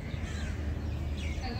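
Crows in Sunder Nursery park in Delhi, a brief burst of cawing over a steady outdoor rumble, with voices nearby.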